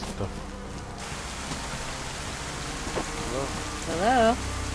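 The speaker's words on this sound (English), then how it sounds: "It's raining hard." Steady hard rain pours throughout a DayZ game scene, a dense continuous hiss with a brief warbling tone rising near the end.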